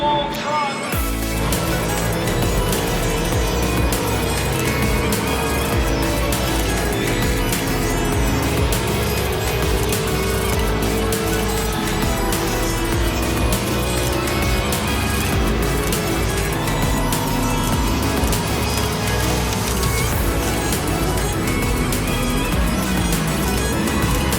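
Pro 2 off-road race trucks compete at a championship off-road racing event, engines roaring continuously and loudly throughout, with layered revving from several vehicles at a distance.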